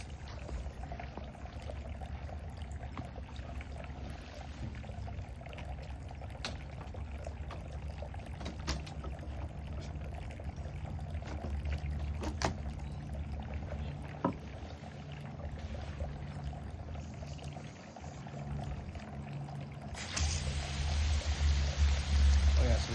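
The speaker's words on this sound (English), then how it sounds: "flow coming off that 1/2-inch pipe. Got a direct line 3/4 or 5/8 from the garden hose." Water from a garden hose flows steadily through a 1/2-inch pipe, a continuous close rushing and splashing that briefly grows louder near the end.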